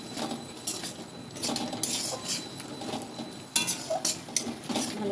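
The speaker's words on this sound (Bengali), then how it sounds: "এবার পটলগুলো দিয়ে একটু নাড়াচাড়া করে নিই।" A metal spoon stirring pointed gourd (potol) in a cooking pan with spices, scraping and clinking against the pan in irregular bursts, close and moderately quiet.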